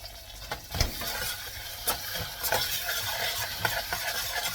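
Butter sizzles in oil with rice in a pan, a moderate close frying hiss broken by stirring scrapes and spoon knocks against the pot at an irregular pace.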